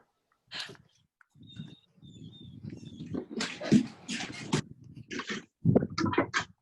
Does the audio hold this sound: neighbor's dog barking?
yes